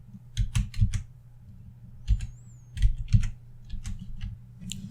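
Light, quick clicks of a computer keyboard as a command is typed, coming in short bursts with brief pauses, close and fairly quiet.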